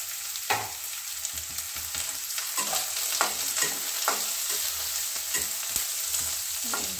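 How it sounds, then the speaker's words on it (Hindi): Green chillies, ginger and spices frying in a pan for an egg curry, a soft continuous sizzle broken by occasional scraping stirs and light clinks of a spoon. "और इसको भी फ्राई कर लेंगे। ये हरी मिर्ची को भी डाल देंगे।"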